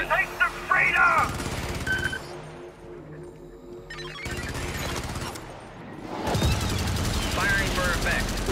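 Gunfire and artillery barrage in Helldivers: sustained bursts of automatic weapon fire and heavy thudding impacts, loud and close, easing briefly before the shooting surges back.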